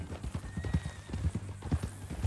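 Horse hooves clip-clopping in Red Dead Redemption 2, a steady rhythmic walking gait of close, fairly loud hoof knocks on hard ground, continuing under a brief faint whinny-like tone.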